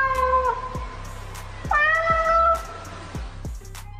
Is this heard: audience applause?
no